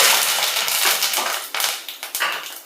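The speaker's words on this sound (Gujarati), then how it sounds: "મીઠા લીમડાના પાન એડ કરશું" Curry leaves tossed into hot oil in a kadai over mustard seeds, cumin, asafoetida and garam masala for desi chana curry, giving a loud, close crackle and spitting sputter that fades slightly in uneven bursts, with no voice.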